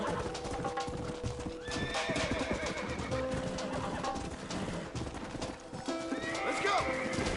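Horses in a cowboy video game whinny and neigh while hooves clip-clop steadily nearby, with birds chirping in the background and voices of characters talking over the scene.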